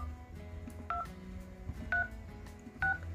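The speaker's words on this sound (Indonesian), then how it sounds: "suara papan panggilan di HP Poco X5 5G saya ini seperti ini" Dial pad key tones from a Poco X5 5G smartphone, three separate short beeps spaced about a second apart, close and clear over a low background hum, with no speech.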